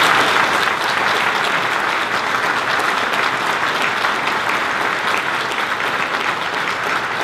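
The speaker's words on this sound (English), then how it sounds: "give a final round of applause for all of these candidates for their good job" Sustained audience applause at a sheriff candidates' debate, dense steady clapping from a large crowd filling the room at even loudness throughout, with no talk over it.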